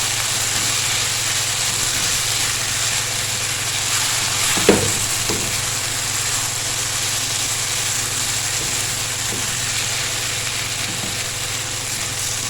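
Eggs are mixed with black pepper in a bowl for an Afghani omelette, making a continuous close stirring and scraping noise with faint clicks under a constant background hiss.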